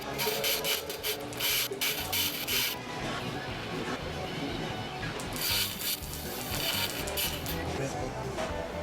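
A diamond-shaped carbide lathe tool slicing through resin beneath a segmented wood ring on a mosaic vase, a steady rough scraping and rasping that swells in bursts over a constant motor hum, close and fairly loud.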